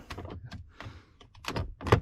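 A Foxbody Mustang ashtray door being worked on its pivot points gives a series of short plastic clicks and thunks, several quick taps with the loudest knocks near the end.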